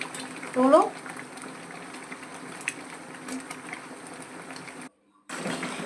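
Mango pickle with jaggery bubbles softly under a lid, a low steady simmer with a brief voice near the start and a short break before the bubbling resumes.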